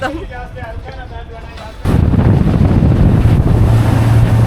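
Water taxi boat ride in Abu Dhabi, with a steady roar of engine, water and wind buffeting the microphone that grows sharply louder partway through, with a voice briefly audible early on.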